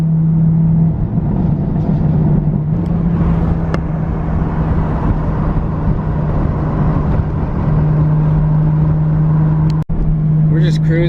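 BMW cars cruising along back roads, with a steady engine drone and road rumble from inside the car and a brief sharp knock near the end.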